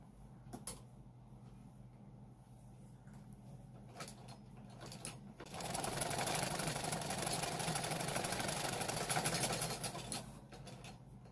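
A sewing machine, just repaired after repeatedly breaking needles, runs a test seam: a steady mechanical whir and rapid needle clatter lasting about five seconds, preceded by scattered clicks and handling noises, close and moderately loud.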